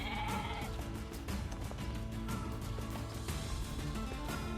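A goat in Nier Replicant bleats loudly in a few wavering calls over busy game music and effects, the cries standing out near the start.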